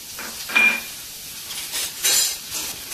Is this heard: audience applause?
no